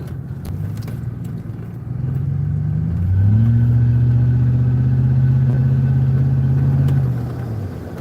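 A car drives along with a steady engine drone, its pitch stepping up as it accelerates and holding level at cruise before easing back down; the engine sound is close, constant and unaccompanied by voices.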